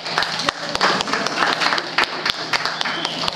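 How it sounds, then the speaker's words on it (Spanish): A classroom of students claps for a classmate, with sharp individual claps standing out from a loose, uneven patter. A voice speaks briefly under the applause. "Un aplauso para el compañero"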